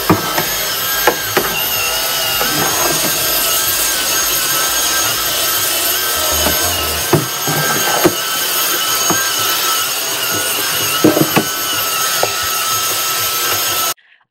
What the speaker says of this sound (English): So now we vacuum.